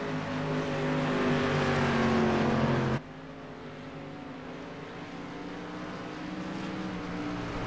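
Dirt street stock race cars roaring around a dirt track, a loud sustained engine drone that cuts abruptly to a quieter, steady rumble of cars circling farther off.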